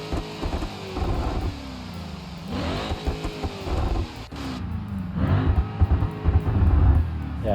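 Drag version of the Grand Marshal car in BeamNG.drive revs repeatedly, its engine tone sweeping up and down in several pulls, moderately loud with a rough, rumbling low end.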